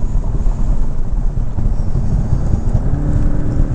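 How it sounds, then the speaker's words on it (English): A 2024 Porsche 718 Boxster Style Edition rolls over a bumpy road, giving a steady loud low rumble of road and engine noise with wind buffeting throughout and no distinct individual thumps. "Car dancing around on the bumps a little bit."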